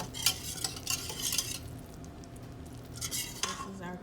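Caramel sauce is stirred in a pan with repeated scraping strokes in two bursts separated by a brief pause, soft and close with a faint background hiss.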